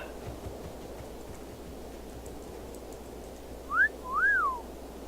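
Two short rising-and-falling whistles in the video game Humperdingle, sounding one after the other over a steady low background hum.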